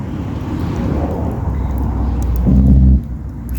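A car passes on a quiet rural road along Scotland's North Coast 500, a low rumble that swells to a brief, louder peak near the end amid steady wind noise.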